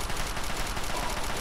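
Bursts of gunfire ring out in the video game Fallout 3, a dense rapid rattle of shots packed close together, loud and continuous with no talking over it.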